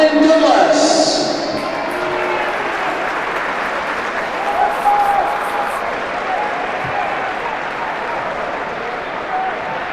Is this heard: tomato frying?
no